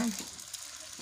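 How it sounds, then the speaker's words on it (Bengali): Oil pitha, rice cakes, fry in hot oil, a close continuous sizzle with soft stirring scrapes, brief and alone without talk. "তেলে পিঠা বানাইতেছি"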